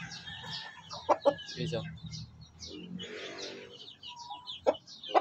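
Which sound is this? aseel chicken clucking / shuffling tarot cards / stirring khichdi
aseel chicken clucking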